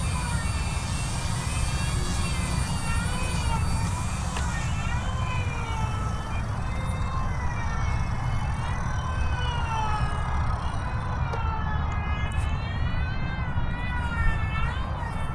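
A Blade 150 S Smart RC helicopter buzzes steadily as it comes in to land, its high-pitched rotor and motor whine wavering up and down in tone, loud and close throughout.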